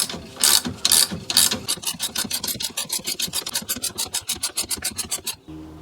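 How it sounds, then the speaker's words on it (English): A ratchet with a 19mm socket tightens the front strut bolts on a Honda Pilot, giving a steady run of close, crisp, evenly spaced clicks after a few louder opening strokes, with no talking. "I still have the same tool set up in 19mm, so I'm gonna use that"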